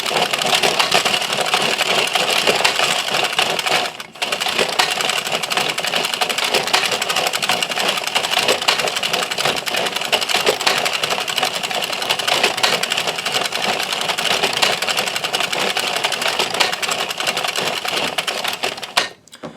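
A Towel Tamer hand-cranked knitting machine runs steadily as it is turned, giving a dense, continuous mechanical clatter of needles and carriage, loud and close with one brief pause near the start and no talk.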